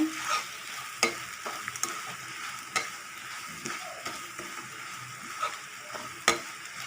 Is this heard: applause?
no